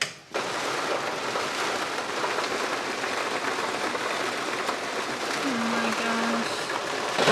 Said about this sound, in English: On day 2, as you can hear and see, the rain is crazy right now.